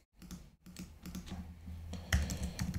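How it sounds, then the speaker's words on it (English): Quick, light keystrokes patter on a computer keyboard as a password is typed, close and fairly quiet, in an irregular run of taps. "Type some password."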